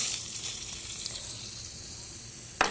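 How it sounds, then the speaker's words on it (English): Chopped onion sautéing in melted butter in a pan for asparagus soup, a close steady sizzle with a faint stir and a short clink near the end. "heat your butter and add and saute some chopped onion"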